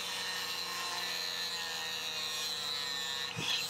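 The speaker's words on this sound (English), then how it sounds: "I'll finish it off with a file." A hand file rasps steadily at the end of a Hot Wheels die-cast car, a close, continuous scraping with no talk.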